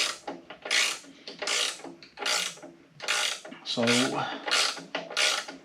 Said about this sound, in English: getting this bottom tightened up here with this wrench